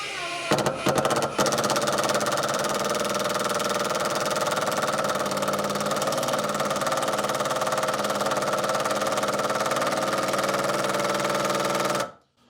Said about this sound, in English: Okay, so I did bottom out that screw. Drove it all the way in very slowly.